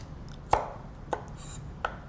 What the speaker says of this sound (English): What you would do is you would take your carrot and you make sure you have a really sharp knife.